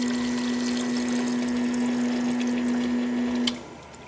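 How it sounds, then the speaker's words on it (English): An SB2009 polyurea pump runs with a steady hum as it pushes xylene through its hoses and manifold, with liquid gurgling throughout before the motor cuts off near the end. "turn it on, and start pumping. Make sure the xylene is cleaning that manifold really well."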